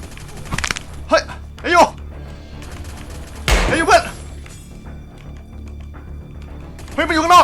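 Gunfire in the Free Fire shooting game comes as a few sharp, loud bursts and thuds spread between bouts of excited talk.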